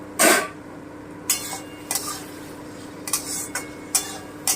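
A lid is lifted off a pan of moong dal and potol cooking over a medium gas flame, giving one sharp metallic clank followed by several lighter clinks and taps of metal against metal.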